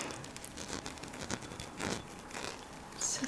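Serpent-shaped scissors snipping in a short series of light, crisp cuts, close and fairly quiet with no talking.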